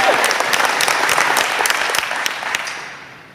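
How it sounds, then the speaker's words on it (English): A club-meeting audience gives a big round of applause for the facilities team, dense steady clapping from many hands that fades out toward the end. "Let's give them a giant round of applause"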